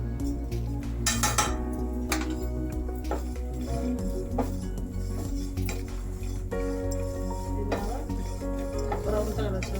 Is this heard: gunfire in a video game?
no